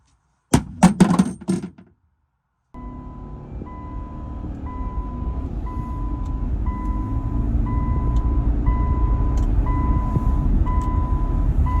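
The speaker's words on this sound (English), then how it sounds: "I just threw it in the bed of my truck and drove on down the road." Pickup truck driving down the road with a rifle scope loose in its bed, a few sharp clattering knocks and then a steady low road rumble with a faint repeating warning chime.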